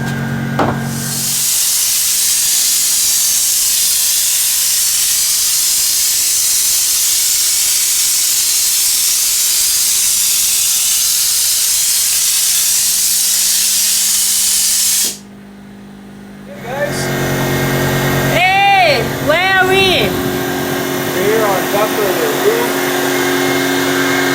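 A loud, steady spraying hiss of a sprayer applying ceramic insulation runs unbroken for about fifteen seconds, then cuts out, and a person starts talking.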